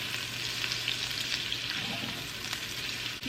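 Cabbage goes into a hot pan for southern fried cabbage and fries with a loud, dense, continuous sizzle and light stirring scrapes, steady throughout without voices.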